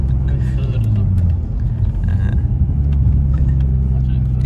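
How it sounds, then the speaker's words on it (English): A BMW E36 engine rumbles steadily up close, its note rising and dipping as the throttle is blipped on and off, with voices partly audible underneath. "you kept pressing the throttle on and off"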